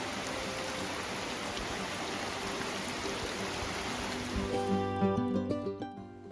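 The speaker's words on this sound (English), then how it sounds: "we're at Mystico Park, enjoying the true wonders of the rainforest with lots of rain." Heavy rain falling in the Costa Rica rainforest at Mystico Arenal Hanging Bridges Park, a dense, steady hiss that gives way near the end to a few tonal, chiming sounds.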